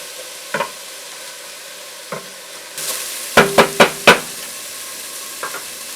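Onion and garlic sizzle steadily in a pan for chili, with a faint background hiss broken by several sharp utensil knocks and scrapes against the pan, a cluster of four loud taps near the middle.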